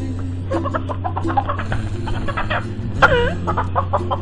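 Chickens cluck repeatedly in short, uneven bursts over a steady low hum, with one louder squawk partway through; nearby birds, no talking.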